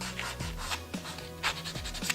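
A pumice buffing block rubbed over fingernails to clear residue after gel polish, quick repeated rasping strokes close to the microphone, soft and dry, with no talk.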